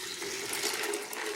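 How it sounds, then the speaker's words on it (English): Hot tea poured over very cold ice in a pitcher, a steady close splashing gush of liquid that runs on evenly without a break. "We are going to pour this hot tea over this really cold ice"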